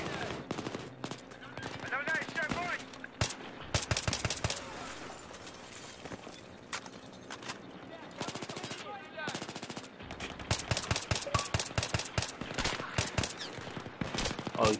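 Repeated heavy shotgun blasts and bursts of gunfire ring out in the Battlefield 3 campaign's Kaffarov mission, loud and close, clustered in rapid volleys across the stretch with a voice talking between them.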